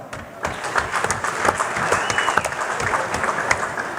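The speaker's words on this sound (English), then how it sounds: "Big round of applause for our special friend, Hugh Conjon." A crowd at the NZ shearing championships applauds a commentator, a lively round of clapping that swells after a quieter start and stays steady, with a few close, crisp claps and a faint whistle.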